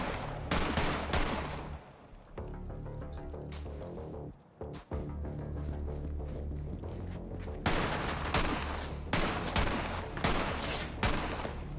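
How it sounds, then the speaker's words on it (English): Gunfire in Borderlands 3, dense and loud bursts of rapid shots in two stretches, broken by a short lull with a couple of heavy booms in the middle. "Who is shooting at me?"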